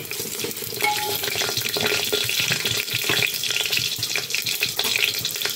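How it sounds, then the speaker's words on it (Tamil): A lump of asafoetida fries in hot oil with mustard seeds as a tempering for rasam, giving a loud close crackling sizzle with sharp popping spits throughout. "ஒரு துண்டு கட்டி பெருங்காயம் போட்டுக்கலாம். அது பொரியட்டும்."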